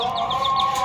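Two pet hens kept in a home coop give a short, close run of clucking, a rapid series of soft pulsed calls over a steady tonal hum.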